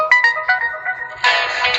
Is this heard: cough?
no